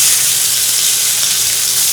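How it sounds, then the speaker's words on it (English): Steak sears in a hot pan with a loud, steady, close hiss and crackle of sizzling fat, continuous and without voices. "We're going to take this steak and go right into the pan."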